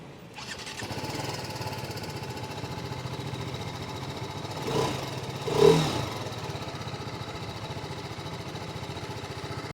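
A TVS Apache RR 310 motorcycle engine runs at a steady idle throughout, a continuous mechanical hum with a brief louder surge around the middle, no voices present.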